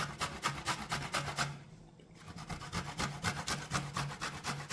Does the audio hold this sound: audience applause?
no